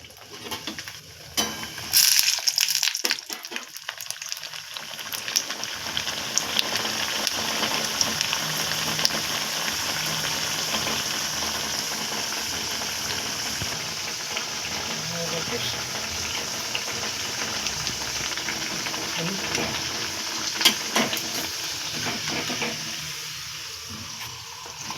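A doi paratha fries in white oil in a wok, giving a close, continuous sizzle with crackling bursts. It runs steadily throughout, with some busier stretches, and voices in the room are faintly audible beneath it.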